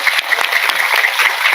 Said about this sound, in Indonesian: Saya minta tepuk tangan dulu dong kangge LPQ kita, luar biasa.